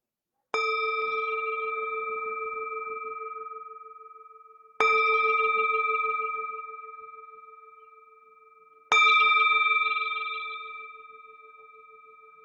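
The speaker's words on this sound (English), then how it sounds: "The sound of this beautiful bell returns us to our true home." A resonant meditation bell is struck three times, about four seconds apart, each ring sustaining a clear pure tone that slowly fades in the quiet.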